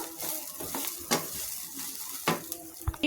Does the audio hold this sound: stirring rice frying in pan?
yes